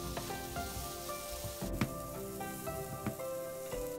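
Cooked shrimp sizzle steadily as they warm in a pan, with a continuous close frying hiss and a few soft clinks and scrapes mixed in.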